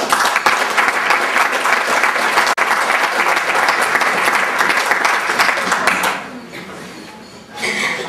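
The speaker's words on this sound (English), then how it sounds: "we should give you guys a round of applause as well." A crowd applauds the parents at a senior sports banquet, the clapping loud and sustained for about six seconds before thinning and tapering off, with a brief renewed burst near the end.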